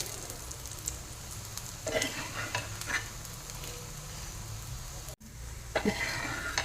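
A thalipeeth made from soaked chana dal fries in oil on a pan, giving a continuous low sizzle with bursts of scraping and stirring, and one brief dropout near the end.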